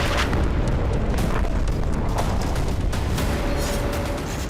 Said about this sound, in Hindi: जिसमें गाजा के लोगों पर मिसाइलों से हमला हो रहा है